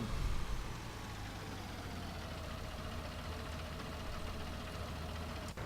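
A tractor engine in Farming Simulator 19 idles and runs steadily, a continuous low mechanical drone with a faint knocking texture, even and moderately quiet throughout.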